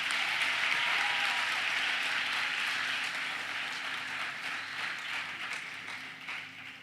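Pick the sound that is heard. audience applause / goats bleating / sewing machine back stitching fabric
audience applause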